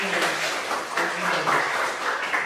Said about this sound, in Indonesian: Tepuk tangan nomor 7.